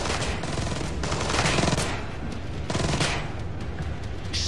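Enemy automatic gunfire in the stealth action game Splinter Cell Blacklist, at an abandoned mill: sustained rapid bursts of shots with dense, continuous crackle through the whole stretch, loud and close, with no talk.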